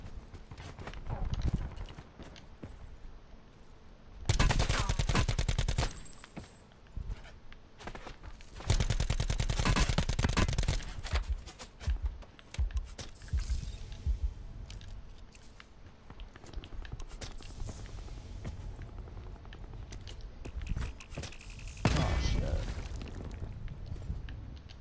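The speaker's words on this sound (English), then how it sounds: "Why are they still shooting at you?" Bursts of automatic gunfire from a battle royale video game match crack out in several loud clusters, near and far, with players talking between and over the shots.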